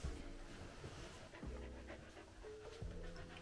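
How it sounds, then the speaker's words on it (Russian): A dog pants steadily and close by in a home with several dogs, with quick rhythmic breaths that continue throughout, under a low background hum. "Милые собачки здесь"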